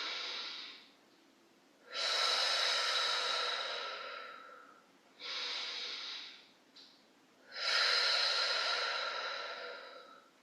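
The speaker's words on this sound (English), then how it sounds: "Taking a few breaths here." Slow, deep breaths during a gentle yoga stretch, long airy inhales and exhales alternating close to the mic, with quiet pauses between them and no talking.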